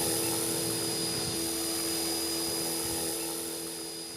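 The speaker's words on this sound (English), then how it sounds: "Push the left stick to the top. The helicopter will fly forward." An Align T-Rex 450 radio-controlled model helicopter whines steadily with a high-pitched motor and rotor buzz, close and loud, fading slightly toward the end.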